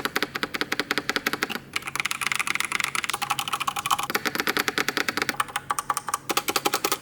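Fast, steady typing on a Razer BlackWidow hot-swap mechanical keyboard, dense close-up keystrokes clattering continuously with only a couple of brief pauses and no talking.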